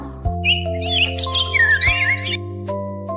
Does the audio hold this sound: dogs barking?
no